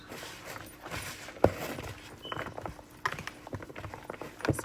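Ground beef being mixed by hand with onions, green peppers and brown gravy mix, giving soft, squishy squelches and irregular wet slaps up close, with a few sharper smacks and no talk.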